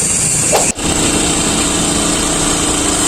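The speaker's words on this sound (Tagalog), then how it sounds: "ng kickstarter kasi lubat yung battery natin. Ayun, umandar naman siya." A motorcycle engine idles steadily after being kickstarted on a flat battery, a loud continuous buzzing drone close by with one brief dip partway through.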